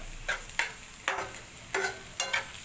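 Onion and tomato cook in a pan for an octopus khimma, with five or six sharp scraping stirs at a steady pace over a faint sizzle, close and without voices.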